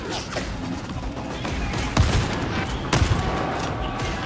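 Shotgun blasts in a video game, a few sharp booming shots among dense background gunfire and rumble, fairly loud and close, with no talking.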